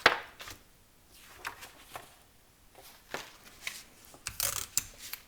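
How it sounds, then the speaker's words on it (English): Masking tape is pressed and smoothed across paper pop-up straps, quiet close crinkles, taps and rubbing bursts spaced irregularly, ending in a louder crackle of tape. "we use some one-sided tape, like this masking tape. And we attach across the straps"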